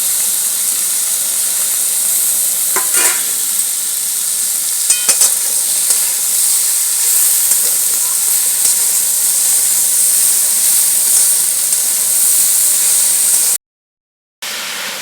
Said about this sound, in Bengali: দেখুন বন্ধুরা শাকটাকেও দিয়ে আমি ভালো করে এইভাবে কষে দিয়েছি